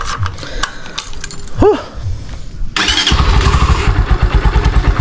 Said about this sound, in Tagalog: Siyempre unang gagawin natin pag na-start natin yung motor, papainitin muna natin mga kalabarkada yung makina